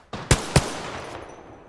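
Three sharp gunshots from a weapon in the battle-royale shooter Apex Legends, a softer first crack followed by two louder evenly spaced blasts, each trailing into a fading echo, with no talk.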